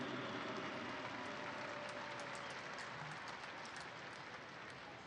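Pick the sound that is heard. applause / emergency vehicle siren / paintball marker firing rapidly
applause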